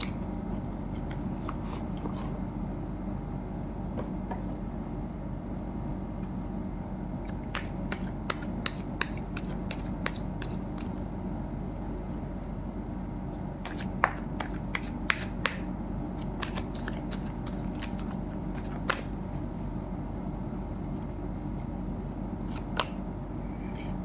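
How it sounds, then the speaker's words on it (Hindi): A tarot deck is shuffled and cards are drawn, giving soft, sporadic flicking and snapping card sounds over a steady background hum, with no talking. "तो चलिए अभी कुछ कार्ड्स हम यहाँ से लेते हैं। टैरो डेक से लेंगे।"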